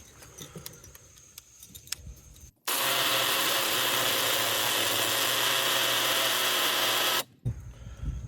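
After some faint clicks and handling, a loud power drill roars continuously for several seconds while drilling through a wall, then cuts off abruptly, followed by rattling and scraping.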